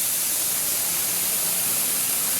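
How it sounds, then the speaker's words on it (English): High-pressure water spray rings in an industrial cleaning system for latex and contact cement equipment, sweeping back and forth; a steady, dense hiss of spraying water fills the whole stretch without a break. "We're running that spray system. You'll see it back and forth here. That's just high pressure water."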